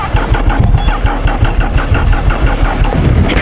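A car engine cranks on an icy road, giving a rapid rhythmic chugging from the starter as it struggles to catch, loud and close throughout.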